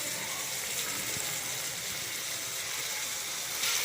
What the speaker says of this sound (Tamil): இப்போ நம்ம இதில் ஒரு கிளாஸ் தண்ணி ஊற்றிக்கலாம்